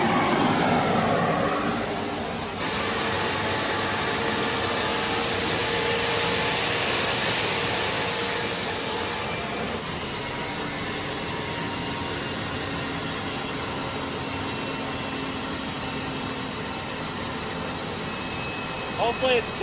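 A jet engine fitted in a Chevrolet Camaro runs with a steady loud roar and a high-pitched whine, the tone shifting once partway through and then holding, with no clear talk over it.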